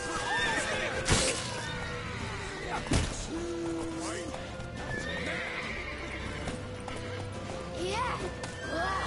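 A horse in The Witcher 3: Wild Hunt whinnies and snorts amid clopping hooves and thuds, close and vivid, while voices shout over the commotion.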